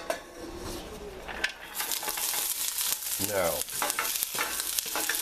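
Garlic, cabbage, celery, shiitake mushrooms and green pepper sizzle steadily in a pan while being stirred, with clinks of utensil against pan and a brief spoken word over the frying.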